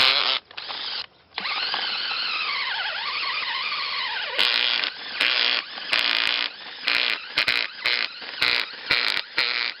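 Power auger with a 2-inch bit drilling into dirt for a coyote trap set, a loud, close, whining motor held steady at first, then cutting in and out in short bursts.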